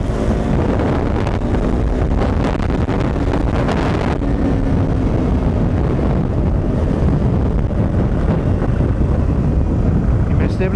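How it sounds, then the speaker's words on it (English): Strong wind blast roaring over a rider on a 2016 KTM Duke 390 naked motorcycle, a loud continuous broadband buffeting with engine drone underneath, steady throughout. "That wind blast is extreme"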